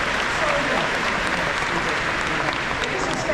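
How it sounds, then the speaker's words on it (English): A large conference audience claps together in a dense, continuous round of applause, loud and even throughout with no pauses. "Can we give a round of applause for that?"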